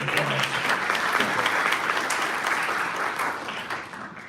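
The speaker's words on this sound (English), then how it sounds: "So please give yourself a round of applause" Dense applause from the audience at a county community leaders summit, sustained and even throughout, tapering off slightly at the end, with a faint voice under the clapping.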